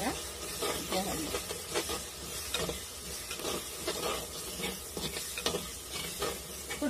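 Chili powder, coriander powder and chicken masala powder cook in a pan for egg biryani with a continuous sizzle and repeated scraping stirs, close and busy, with faint talk in the background.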